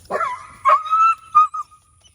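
A dog yelps sharply several times in quick succession after an electric fence shock, high-pitched cries trailing into a thin whine, close and loud with no talking.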